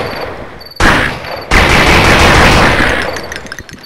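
Loud rapid gunfire in the video game Blood 'n' Bacon, a sustained fusillade of close shots breaking off briefly before resuming and then tapering away.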